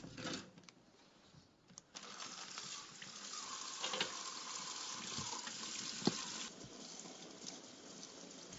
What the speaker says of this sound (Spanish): el agua se llevará los últimos restos de barro adheridos a los huesos